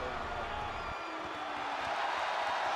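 Wrestling arena crowd cheering for Shinsuke, a steady distant roar of many voices, moderately loud and continuous without sharp peaks.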